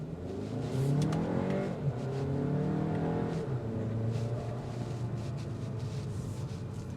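2025 Audi Q3 Premium Plus 45 being driven, engine revving up with rising and falling tones as it accelerates and shifts, then settling into a steady cabin hum, heard close and fairly loud.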